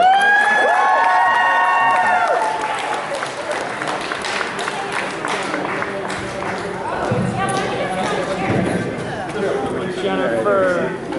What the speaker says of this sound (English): a big round of applause for the Cassie crew